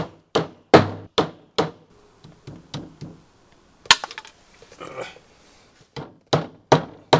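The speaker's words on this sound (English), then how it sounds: "I was also driving them in with a framing hammer, which isn't the right hammer for the job" A framing hammer strikes small tacks into canvas on a tent in a series of sharp, ringing blows, steady at first, a short rustling pause, then another quick run of hits.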